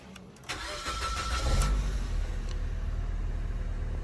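A car engine cranks and fires up after a spark plug replacement for a misfire, then settles into a steady low idle, close and continuous.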